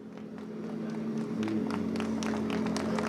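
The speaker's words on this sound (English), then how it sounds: "he receives a round of applause from all of his Dacia team as the winner of the rally" The Dacia rally team claps for winner Loeb at the finish of a rally-raid stage in Portugal, a close, continuous patter of applause that swells slightly and holds steady, with faint crowd voices mixed in.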